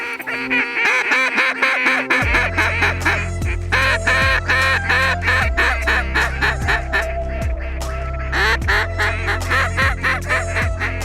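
A large flock of mallard ducks calls during a Kansas duck hunt, a dense, continuous chorus of overlapping loud quacks and calls with no talking.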